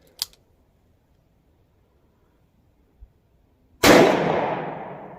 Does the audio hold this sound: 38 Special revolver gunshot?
yes